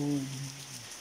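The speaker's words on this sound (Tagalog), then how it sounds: "grabe yung lumakas ng ulan" Steady heavy rain hisses throughout in Menorca, Spain, a dense wash of falling water with a brief low tonal hum at the start.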